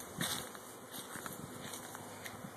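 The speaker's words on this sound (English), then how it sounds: "The bees are gonna come out of the cage and in underneath here." Honeybees buzzing around a newly installed homestead hive, a close, continuous hum with shifting pitch from individual bees passing near, plus faint light rustling and handling sounds.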